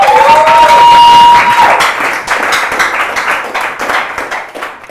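A studio audience on a game show claps for the contestants, loud sustained clapping that follows a bright electronic tone, then continues as dense, uneven applause.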